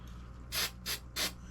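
Three short bursts of hissing spray from an aerosol can, evenly spaced, close up against quiet background hum.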